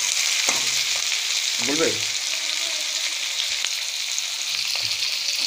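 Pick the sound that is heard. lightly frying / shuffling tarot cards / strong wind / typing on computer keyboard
lightly frying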